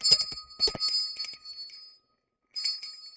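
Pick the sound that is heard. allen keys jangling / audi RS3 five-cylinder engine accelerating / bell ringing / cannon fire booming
bell ringing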